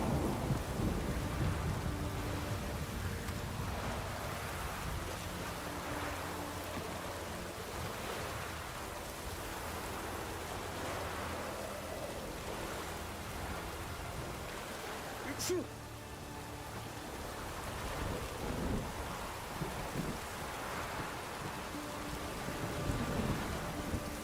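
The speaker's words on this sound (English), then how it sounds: "It's raining." Steady rain in The Witcher 3 video game, a soft continuous wash with low rumbling like distant thunder, faint throughout and briefly interrupted by a sharp click.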